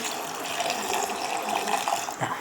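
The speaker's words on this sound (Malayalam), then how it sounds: "ഇതാ ഉപ്പിട്ട് തിളപ്പിച്ച് ആറ്റിയ വെള്ളം ഞാൻ ഇതിലോട്ട് ഒഴിക്കുവാണേ" Cooled, boiled salt water is poured over gooseberries in a container, giving a continuous, even splashing stream that runs close and steady for a couple of seconds with no voices.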